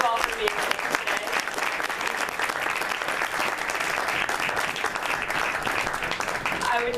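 Sustained applause from a large audience at a press conference, dense and steady throughout without a break.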